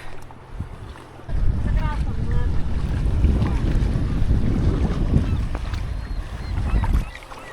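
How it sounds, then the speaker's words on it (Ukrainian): Wind gusts and choppy water on the Yukon River, heard from a boat drifting toward Lake Laberge: a loud, close rumble of wind buffeting the microphone rises after a quiet start, holds steady, then drops away near the end. "Наче як на морі, хвилі"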